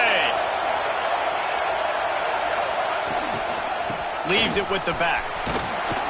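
A college football video game crowd roars in a steady, loud wash of cheering, with a commentator talking over it throughout.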